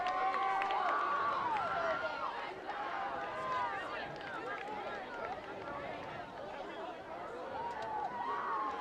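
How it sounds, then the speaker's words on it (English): Crowd at a high school football game between Shelton and North Mason, a steady dense murmur of many voices with scattered shouts and cheers, loud and continuous throughout. "Let's listen to the crowd here."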